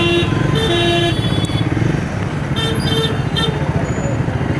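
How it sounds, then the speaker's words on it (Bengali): Dense road traffic jam with motorcycles, a steady engine rumble throughout and several short horn toots breaking through, loud and close. "এখানে যখনই আসি তখনই জ্যাম।"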